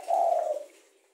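A single soft coo from a ringneck or spotted dove kept in a backyard cage, close and clear, swelling briefly and fading out within about a second, with no other sounds.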